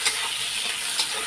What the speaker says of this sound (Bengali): পেঁয়াজটা আগে লাল লাল করে ভেজে নেব